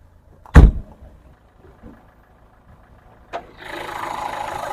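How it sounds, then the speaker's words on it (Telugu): A Renault Duster RXZ gives a sharp thump like a door closing, a short quiet stretch follows, then the engine cranks and settles into a steady, even idle. "ఇంజన్ బీటింగ్ చూడండి, పర్ఫెక్ట్ ఉంది"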